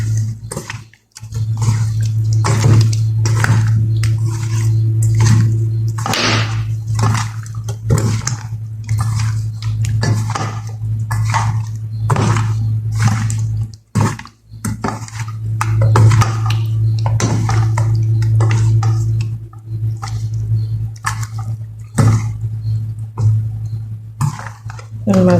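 Fish pieces being mixed with salt by hand in a bowl, close wet squishing and slapping in an irregular rhythm, with occasional clinks of the dish and brief pauses.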